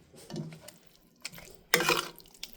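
A spoon mixes raw onion into soft roasted eggplant in a bowl. It gives a few brief, quiet scraping and clinking strokes with pauses between them.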